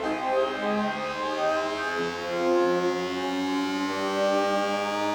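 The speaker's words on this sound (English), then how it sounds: "I think it's going to make a riser for us" Synthesized riser from an Arturia EFX Motions Riser Maker effect, a dense padded tone with stacked harmonics gradually swelling and shifting upward, steady and loud throughout with no talking.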